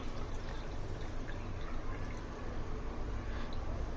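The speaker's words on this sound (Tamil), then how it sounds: "நான் இதில் வந்து தண்ணி 2 கப் ஊற்ற போகிறேன்." Water poured from a cup into a pot of rice and vegetables for veg biryani, a soft continuous splashing and trickling fill, close and fairly quiet, with no voices.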